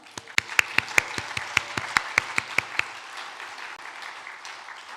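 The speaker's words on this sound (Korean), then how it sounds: "큰 박수를 한 번 더" Audience applause at a Sunday afternoon praise worship service in a church, heard as a short run of distinct, fairly evenly spaced claps that stop after about three seconds and leave a quiet room.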